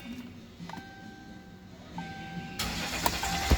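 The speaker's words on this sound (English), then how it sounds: "Let me crank it again." A 2016 Dodge Ram diesel cranks without starting: a quiet electronic whine and beeps come first, then the starter spins the engine with a rising churn near the end, and the engine never catches.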